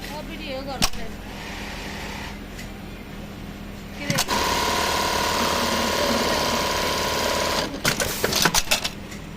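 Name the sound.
Brother RH-8920 sewing machine stitching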